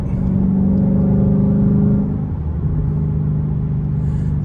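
A Ford Mustang's engine rumbles at a steady, loud idle, rising into a brief rev and then settling back to a sustained low drone.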